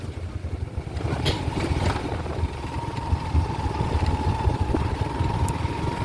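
A motorcycle engine hums steadily as the bike climbs and rides along hilly tea garden roads in Sreemangal, a continuous close rumble with no speech.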